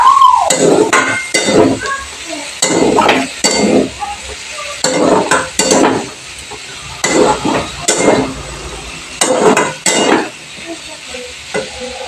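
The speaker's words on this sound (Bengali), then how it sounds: "মটরশুটির মটরটাকে আমি একটু ভালো করে নেড়ে নিচ্ছি" Spoon stirring potatoes and green peas in a hot pan for ghugni, with repeated scraping strokes in bursts over a soft sizzle of oil, close and fairly loud.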